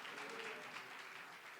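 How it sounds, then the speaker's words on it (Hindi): Faint, distant applause from a church congregation during a sermon, a continuous soft patter of many hands clapping with no voices over it. "एक बार फिर से ताली बजा सकते हो प्रभु को"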